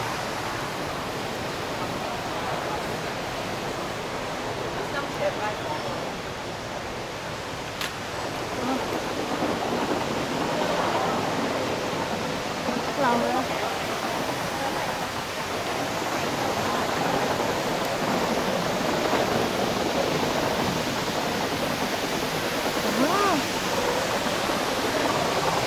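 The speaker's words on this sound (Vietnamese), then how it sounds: "phía trước các bạn là cái thác nước kìa" An indoor waterfall at a shopping and dining complex in Singapore pours in a steady, dense roar, continuous and fairly loud throughout with faint background activity mixed in.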